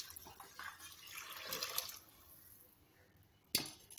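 Water poured into a pot of soaked rice and vegetables for Telugu-style veg pulao, a faint splashing pour that swells midway and ends with a sharp clink.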